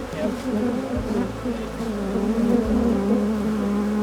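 A steady, dense buzzing of many honey bees at a hive in Alaska hums close by throughout, with low rumbling underneath and a faint voice briefly in the background.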